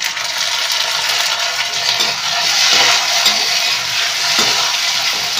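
Onions and tomatoes fry in a pan for a gatte ki sabzi, giving a steady, close broadband sizzle that holds evenly throughout with a few small clinks and stirring bumps.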